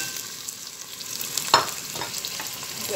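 Fried rice with pepper being stirred in a pan: a steady sizzle runs throughout, with one sharp scrape or clatter near the middle and softer stirring scrapes after it.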